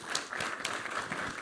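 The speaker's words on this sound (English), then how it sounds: "I would like to give a huge round of applause for our guests" A short burst of audience applause for guests at a tech conference in Milan, quick and fairly faint, dense clapping throughout.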